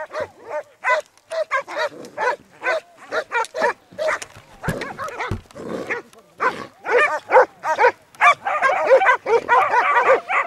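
Hunting dogs on a driven boar hunt in Croatia bark and yip loudly in rapid irregular bursts, close by, with whimpering and a stretch of dense overlapping barking near the end.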